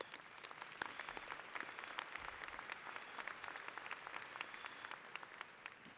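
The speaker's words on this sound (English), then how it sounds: "yes, we should stop and clap for that." Audience members at a law school spring commencement ceremony burst into sustained applause, a dense wash of clapping heard from within the crowd for several seconds, with no speech over it.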